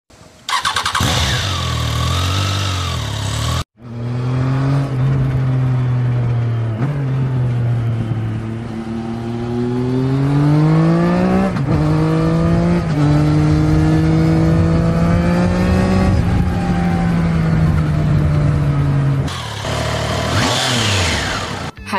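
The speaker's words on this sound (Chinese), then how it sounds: "三缸小电钻，它的声浪是这样的" A three-cylinder motorcycle rated at 81 horsepower, shown at the Beijing motorcycle show, idles and then revs up and down in long rising and falling sweeps, loud and close, with the engine note dominating.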